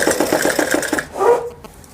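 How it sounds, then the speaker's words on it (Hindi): Domestic sewing machine running fine stitches along fabric from the reverse side while sewing a Patiala salwar, a quick close whirring burst that slows and stops after about a second. "बिल्कुल यहाँ पर बारीक बारीक सिलाई लगानी है कपड़े के ठीक ऊपर"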